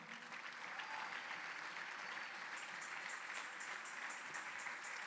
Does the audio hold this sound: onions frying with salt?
no